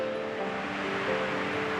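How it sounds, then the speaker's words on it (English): Steady broadband roar of Provoking Falls, a waterfall in Algonquin Park, heard up close as an unbroken wash of falling water with a faint low hum running under it and no voices. "we're at probably the most photographed waterfall in Algonquin, Provoking Falls"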